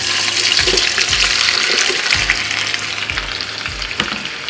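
Rice being rinsed in water while cooking, with a steady wet swishing and splashing close by and a few small knocks against the container.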